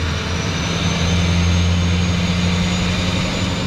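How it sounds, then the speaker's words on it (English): A 2007 Duramax LBZ diesel pickup idles with a deep steady engine drone and a thin continuous turbo whistle riding high above it, close and constant without pause. "You can hear the turbo whistle in the background."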